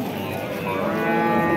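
A cow at a livestock bazaar in Baliqchi, Andijan region, gives one long, close, loud moo that holds and swells slightly toward the end, with no talk over it.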